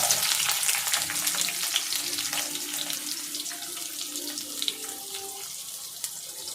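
Mustard and fenugreek seeds crackle and sizzle in hot oil, a bright continuous fizz with scattered pops, close by and steady.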